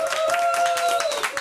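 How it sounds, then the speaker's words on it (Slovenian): Audience applause closing a Slovenian talk-show interview, a short, busy patter of clapping hands, with a steady musical tone running underneath. "Lep aplavz."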